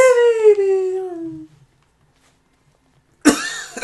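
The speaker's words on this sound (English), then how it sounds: "Oh, he's coughing it up." A drawn-out, descending wheezy tone fades into silence, then a sudden harsh cough bursts out close and loud near the end.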